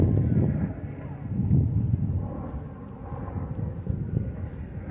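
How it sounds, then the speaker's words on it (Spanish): An airplane flies overhead in an outdoor park setting with trees, its engine drone a steady low roar that swells and fades, with wind noise and a voice speaking at times. "Miren el avión, chica."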